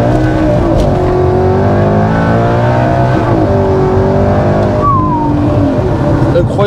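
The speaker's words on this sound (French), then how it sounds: "le bruit au rétrogradage" An Audi R8 engine snarls loudly and steadily through downshifts, its pitch stepping and sweeping with each gear change while voices talk over it.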